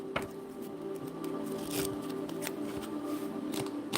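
Tarot cards are shuffled by hand in short, papery riffles and soft flicks that repeat irregularly. The sound is close and quiet, with no talking.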